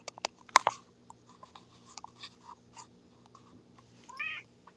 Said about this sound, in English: You hear the cat crying, guys?